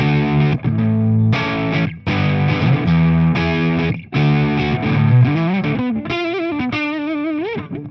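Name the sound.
electric guitar played through its neck pickup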